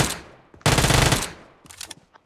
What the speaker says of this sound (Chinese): UMP 打咗佢三十粒子弹都唔冧嘅